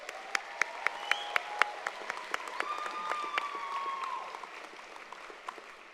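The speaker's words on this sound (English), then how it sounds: "Give your loved ones a round of applause." Graduates at a college commencement clap for their loved ones, a thin scattering of sharp individual claps with a few sustained tonal sounds running beneath, moderately near and fading toward the end.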